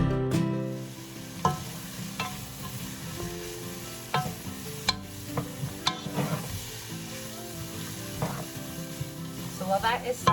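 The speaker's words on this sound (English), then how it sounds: "add in our celery and onion and let that saute up" Celery and onion saute in olive oil for a cabbage soup, giving a continuous close sizzle with scattered clicks and scrapes of stirring throughout, alone without speech.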